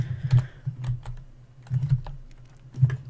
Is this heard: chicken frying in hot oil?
no